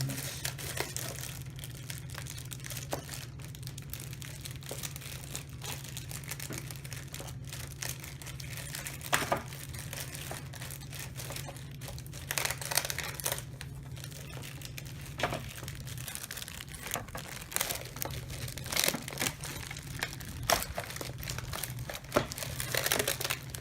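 Packing paper crinkles and rustles steadily as a Samsung 27-inch curved monitor's stand is unboxed, a continuous close, fairly quiet crackle with occasional sharper tearing snaps and a low steady hum underneath.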